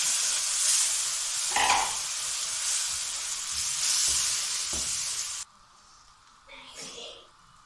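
Ground tomatoes poured onto chillies frying in a pan for Singaporean rice raise a loud, continuous hissing sizzle with stirring, which drops suddenly to a quieter simmer near the end; brief voice sounds occur.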